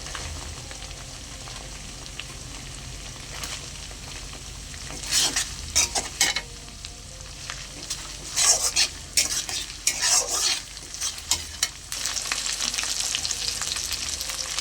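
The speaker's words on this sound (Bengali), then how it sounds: "এবারে দিয়ে দেবো আদা রসুনের পেস্ট, একটু নেড়ে নেব যাতে গন্ধটা না থাকে।" Ginger-garlic paste sizzles steadily in a hot pan while a spatula stirs it, adding bursts of scraping and clattering strokes over the continuous frying hiss.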